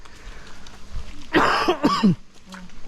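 A short burst of harsh coughs, two or three in quick succession, close by against a quiet room.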